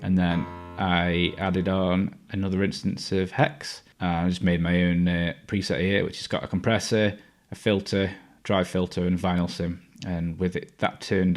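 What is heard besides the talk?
No distinct noise like a dog, phone or traffic.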